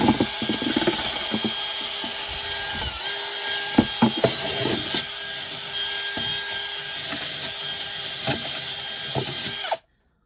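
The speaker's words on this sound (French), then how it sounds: "je vais passer la brosse rotative pour les enlever" Rotary wire brush scouring flaking paint off the wooden interior of a sailboat's forward cabin, a steady loud abrasive whir with scraping bursts and knocks, running continuously for about ten seconds before cutting off abruptly.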